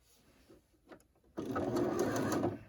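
A sewing machine stitches a quarter-circle quilt block along a curve, starting after a few quiet seconds of faint handling noises and then running steadily and close up without a break.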